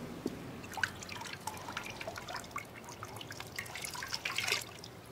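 Water is poured and drunk in a dramatized scene, coming through as soft irregular drips and trickles that run steadily for several seconds, quiet and close, with no talk over them.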